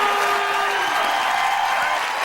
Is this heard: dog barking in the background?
no